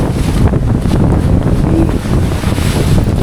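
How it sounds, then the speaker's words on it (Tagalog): Big ocean waves surge and break at Lawis, Patnanungan, Quezon, with strong wind buffeting close and loud and a continuous roar that swells in repeated pulses, no voices. "talagang napakalaki ng alon dito sa Lawis"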